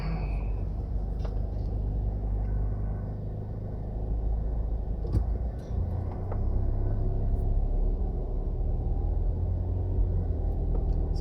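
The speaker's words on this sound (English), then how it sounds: "That's actually the garbage truck they use in Jamaica." A garbage truck driving along a street in Jamaica, a steady low engine rumble heard close by with occasional faint clanks and knocks, continuing without pause.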